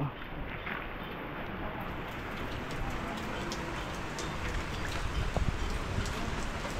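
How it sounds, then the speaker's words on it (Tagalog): Heavy rain pours down steadily as a dense, even hiss from start to finish, loud and close with no pauses. "lakas ng ulan"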